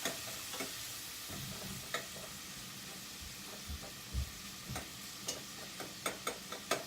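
Onions sizzle quietly in a pan, a soft steady hiss close by, broken by a string of light clicks and taps as they are stirred around, more frequent toward the end.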